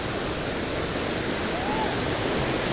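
Steady broadband rush of a river and waterfall at Jumog, Tawangmangu in Central Java, a constant even roar filling the whole stretch with no breaks.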